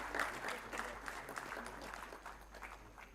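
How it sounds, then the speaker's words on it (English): Audience applause at a memorial lecture in Jaipur, a dense, steady round of clapping from a crowd in a hall that fades slightly toward the end. "A huge round of applause, ladies and gentlemen"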